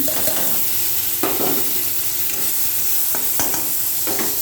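Onion, tomato, dried and green chillies and five-spice seeds fry loudly in hot oil, a steady close sizzle broken by intermittent scrapes and clatters of stirring.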